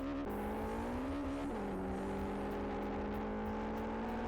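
A Peugeot 106 engine in the Live for Speed racing game hums steadily at moderate volume, its pitch stepping up as the revs climb and then holding at a sustained drone.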